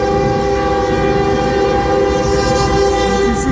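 A CN freight train carrying welded rail rolls past at Ladysmith, Wisconsin. A loud, sustained horn sounds over the heavy rumble and rattle of the cars.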